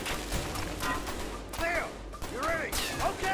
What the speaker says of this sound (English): Okay, they're shooting at me.